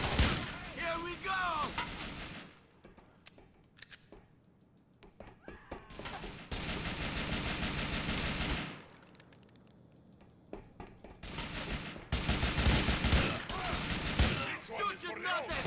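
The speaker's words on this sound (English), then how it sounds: "Where am I getting shot?" Gunfire erupts in Grand Theft Auto 4, loud bursts of rapid shots in several clusters separated by quieter gaps, with voices and other game sounds between the volleys.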